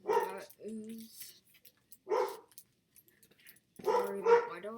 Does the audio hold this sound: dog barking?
yes